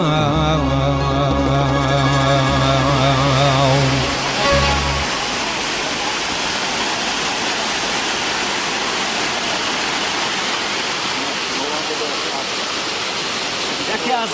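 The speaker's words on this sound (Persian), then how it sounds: "یکی از بهترین نعمت‌های پروردگاری که با چشم سر می‌بینم این شرشره سنگردک است" Sangardak waterfall in Sariosiyo, Surxondaryo, Uzbekistan roars as a loud, steady rush of falling water, with a tonal chant-like voice or music over it for the first few seconds before the water carries on alone.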